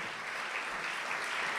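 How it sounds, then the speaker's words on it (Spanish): Church congregation applauding during a sermon, a steady dense wash of clapping filling the whole moment with no voices over it. "Yo creo que Él se merece un aplauso"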